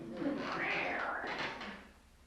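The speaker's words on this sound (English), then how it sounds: "every time you shift, it sounds like a door on a haunted house set" A creaky chair shifts under someone's weight, giving a drawn-out rising and falling squeal like a haunted-house door, close and moderately loud, lasting about two seconds.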